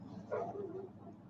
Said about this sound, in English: You might hear my lab barking outside tonight